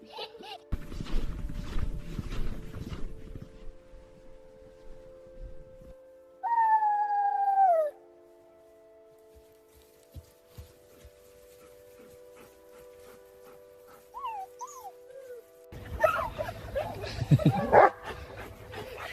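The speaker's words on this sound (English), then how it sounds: "It's a puppy." A little white puppy whimpers and whines in a high, wavering cry, a short clear bout standing out between quieter stretches of rustling and handling noise.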